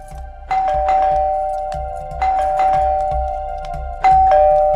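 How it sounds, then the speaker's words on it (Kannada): A doorbell rings three times in a row, each a loud, close electronic ding-dong tone that lingers before the next press, with a steady low hum underneath and no voices. "ಯಾರಿದ್ ಇಷ್ಟೊತ್ತಲ್ಲಿ ಹಿಂಗ್ ಬೆಲ್ ಮಾಡ್ತಾ ಇದಾರೆ?"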